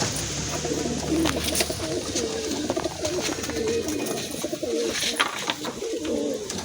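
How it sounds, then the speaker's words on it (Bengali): Pigeons, including a tumbler-type bird in a loft, cooing in soft repeated throaty phrases, close and steady over a low rustling background. "আপনাদের একটা ভোল মারা পায়রা দেখাবো বলেছিলাম"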